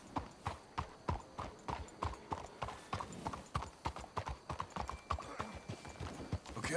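Rhythmic clip-clop of horse hooves at a steady trot in Red Dead Redemption 2, close and continuous throughout.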